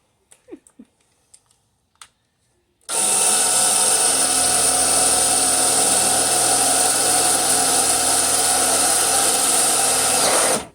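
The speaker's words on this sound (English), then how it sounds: "As soon as we drilled through it, it separated." A power drill bores through spot welds on a car radiator support. A few sharp knocks come first, then one long, loud, steady high-pitched whine of about eight seconds.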